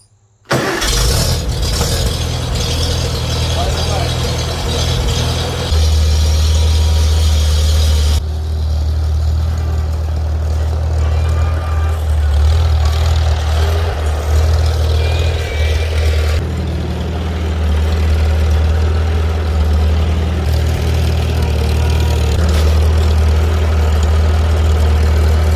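A Farmall Super C tractor engine cranks, catches without choke, and settles into a steady, loud, low chugging idle that runs continuously up close, with no talk over it.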